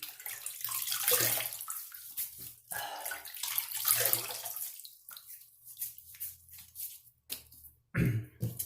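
Tap water runs and splashes close by as a Vie Long 12705 shaving brush is rinsed in a sink, a loud, uneven gush in bursts that breaks into intermittent trickles and drips, with no talk.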